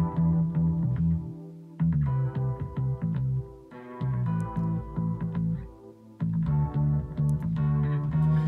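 Electric piano chords ring out in a steady progression over a repeating bass line, with short pauses between phrases; warm, close, and effect-heavy, no talking.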